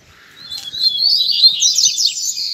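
Coleiro, the double-collared seedeater, sings in a chirping, warbling run of high notes. The song builds and carries on steadily, fairly close and clear, against a quiet background with no talk.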